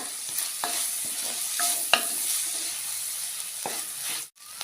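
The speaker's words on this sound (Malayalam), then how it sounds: "ഇതെല്ലാം കൂടെ നന്നായിട്ട് വഴറ്റിയെടുക്കണം" Green chillies, curry leaves, onion and tomato sauté in a pan, giving a continuous soft sizzle with occasional sharp clicks and scrapes of a spoon stirring, close and even in level.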